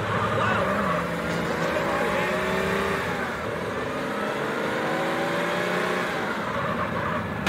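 A car driving in Grand Theft Auto San Andreas on PC, a loud continuous engine roar with shifting revs and tire noise that holds steady throughout, with no voices heard.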